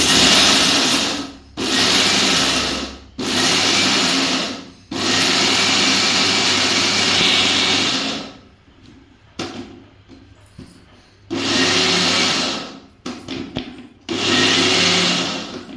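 A mixer grinder grinds peanut chutney powder in loud, harsh bursts of several seconds each, separated by short pauses, with a quieter stretch of rattling and handling between the later runs.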